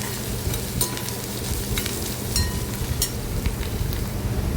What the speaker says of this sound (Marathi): त्याच्यामध्ये आपल्याला हा टेचलेला लसूण आहे तो टाकायचा आणि तोही कांद्यासोबत आपण व्यवस्थित परतून घ्यायचा आहे